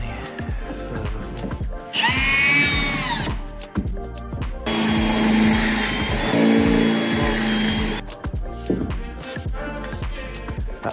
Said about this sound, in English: Drill the spots out.